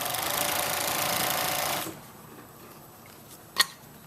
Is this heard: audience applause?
no